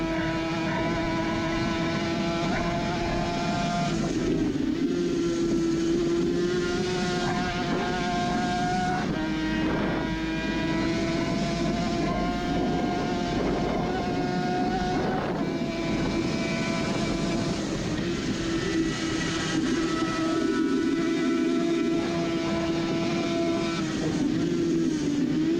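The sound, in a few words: Suzuki RG500 racing motorcycle engine, onboard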